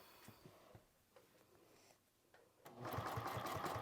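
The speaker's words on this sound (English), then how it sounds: "And then you can keep sewing." A sewing machine stitches layers of fabric for a zippered bag, quiet and intermittent at first, then a loud steady run of rapid needle strokes in the final second.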